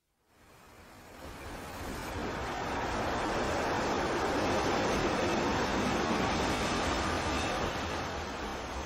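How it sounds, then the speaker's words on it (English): A train pulling into a station, a broad rushing rumble that swells over the first few seconds and then holds steady and loud, with no voices over it. "Soon the train came."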